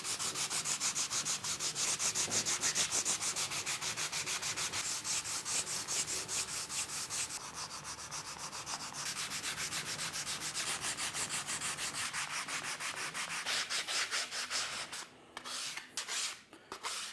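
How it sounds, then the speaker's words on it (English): Wooden dowels are hand-sanded with coarse 120 grit sandpaper, producing steady rapid back-and-forth rubbing strokes, close and fairly quiet, tapering into a few separate strokes at the end. "I'm going to start with a nice coarse 120 grit"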